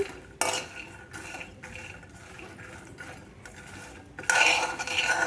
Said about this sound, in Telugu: ఇలా మధ్య మధ్యలో కలబెడుతూ వేపుకోండి మంచిగా వేగుతాయి